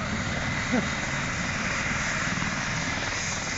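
Helicopter starting up during a rescue operation in a housing estate, a steady, loud whirring engine and rotor drone that holds without big changes, with a brief voice in the background.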